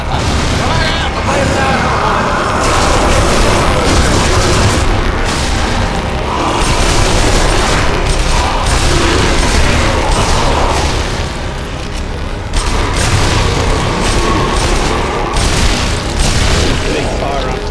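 Gunfire in Sniper Elite: Nazi Zombie Army booms loudly and densely in a constant barrage of shots and blasts, while players talk over it.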